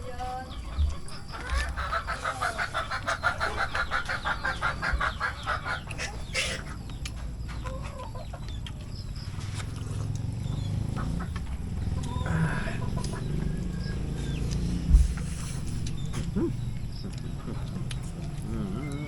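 Chickens clucking nearby in a repeated, busy rhythm, with a rooster-like call and scattered farmyard noise over a steady background hum.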